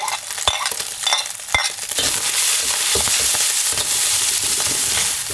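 Crab leg meat and crab meat drop into a hot wok already sizzling with crab oil, ginger and crab roe; a few sharp scrapes and stirs come first, then a steady close, loud frying sizzle fills the rest.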